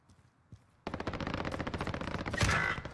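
Rapid automatic gunfire from a gun in the shooter game Call of Duty: Warzone, a loud continuous burst of quick shots that starts abruptly after a near-silent moment and runs to the end.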